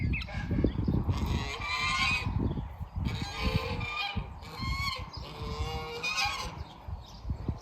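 Guard geese on a homestead honk repeatedly in a noisy flock, overlapping calls over steady low rumbling background noise.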